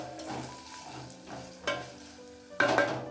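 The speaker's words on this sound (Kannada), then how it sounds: "ಸಿಮ್ಮಲ್ಲಿ ಇಟ್ಕೊಂಡು ನೀವು ಇದನ್ನ ಫ್ರೈ ಮಾಡಬೇಕು." Oggarane tempering for rice fries over a low flame, a quiet sizzle broken by several clinking stirs of a spoon against the pan, the last one louder and scraping.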